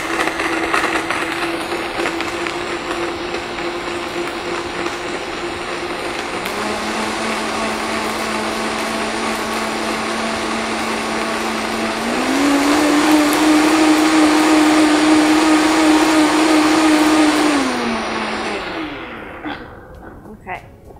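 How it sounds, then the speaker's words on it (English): A blender whirs loudly and steadily as it purees almonds, milk and dates into almond milk, its motor pitch shifting partway through before winding down at the end. "So blend it up."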